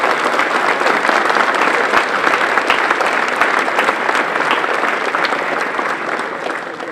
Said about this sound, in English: Let's give all of these young men and young women a big round of applause.